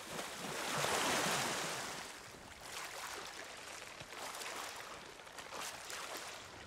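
Ocean waves wash and roll in Sea of Thieves, a broad steady surge near the player that swells loudly at first, then settles into a continuous rushing wash with light wind, no voices.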